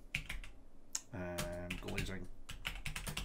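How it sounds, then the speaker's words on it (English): Keystrokes on a computer keyboard typing a search query, a quick run of close clicks broken by a short burst of speech in the middle. "Let's go and type in now"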